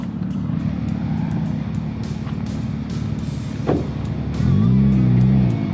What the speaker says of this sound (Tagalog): Hirap na hirap yung sedan natin. Yan o. Sumasayad.